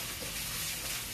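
Crushed chili and garlic frying in a hot wok, a brief dense sizzle that is loud and close, with no voices.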